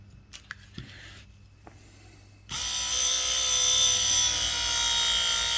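A car window regulator motor, powered at 24 volts from two 12-volt batteries wired in series, starts suddenly after a few quiet seconds with taps and clicks, then runs as a loud, steady whine with a slight rise.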